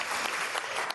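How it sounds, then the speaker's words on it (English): A conference audience bursts into loud, continuous applause after a card trick at a magic convention, a thick wash of many hands clapping at once. "Big applause."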